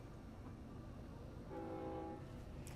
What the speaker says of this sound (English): there goes the train whistle